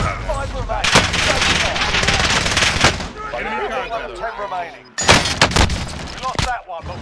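Rapid bursts of automatic gunfire from Call of Duty Cold War, loud and dense, with brief pauses and a short gap before firing resumes; a voice talks over parts of it.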